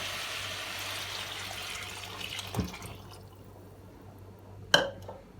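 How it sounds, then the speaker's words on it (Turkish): Meat broth poured over sautéed ingredients in a pot for şip şip soup, a steady splashing pour close by that tapers off midway, followed by a short clatter and a brief splash. "Şimdi et suyumu döküyorum üzerine."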